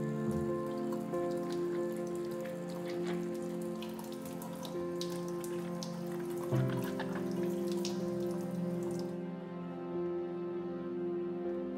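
Running water from a tap splashes steadily over pickling cucumbers in a sink as they are washed, a continuous patter with small irregular splashes and a humming tone underneath.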